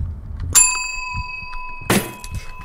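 A bell rings twice in the Suite 776 horror video game, each a sharp metallic ding that hangs and fades, separated by a short quiet gap over faint low background.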